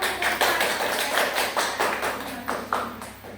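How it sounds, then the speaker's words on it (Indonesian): A third-grade class claps together in a classroom, a brisk run of overlapping hand claps with a few louder swells, steady throughout at close range and free of talk. "Mari beri tepuk tangan dulu."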